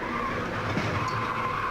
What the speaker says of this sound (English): Hard, a car in the wall. And spinning down to the bottom.